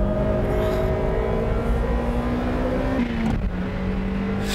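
Honda Civic and Mazda Roadster, both 2-litre 200-horsepower cars, racing at Tsukuba circuit: a loud, close engine drone revving steadily, with a gear change and a shift in pitch late on, and no talk.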